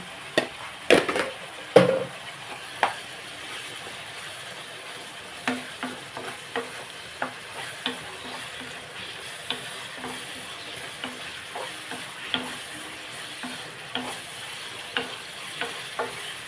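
Ginger garlic paste fries with softened tomato pieces in a pan for a tomato curry. A quiet, steady sizzle runs beneath repeated sharp taps and scrapes of a spoon stirring, louder at the start, and no one talks.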